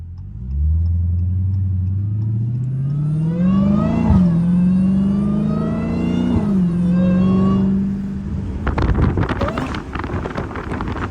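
Dodge Hellcat driving in snow, its engine climbing through a long loud rev with gear shifts, then a burst of crackling exhaust pops at the end, heard close with wind noise.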